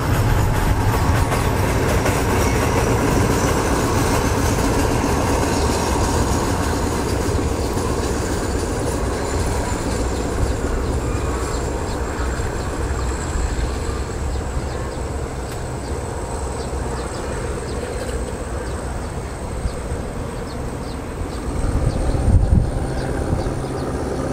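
Alsthom diesel locomotive on a Kanchanaburi line working at Wat Suwan railway station in Thailand: a steady, loud engine drone with rumbling wheels and faint rail clatter, swelling briefly near the end.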